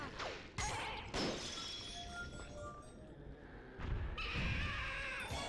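Hitting Dino Piranha's tail in Super Mario Galaxy brings a few sharp whacks and crashing hits with glassy clinks and game effects spread across the moment, mixed with a voice talking.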